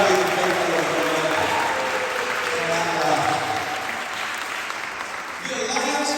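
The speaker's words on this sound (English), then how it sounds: "Let's make some noise for Sam Rising today" A church event audience applauding steadily with some cheering mixed in, a dense crowd clapping throughout before easing slightly near the end.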